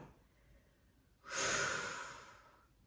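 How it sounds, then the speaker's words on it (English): A single long exhale during Pilates reverse curls on a mat, a close breathy rush of air lasting over a second with no talk. "now if you choose to hold, just make sure you breathe, exhale"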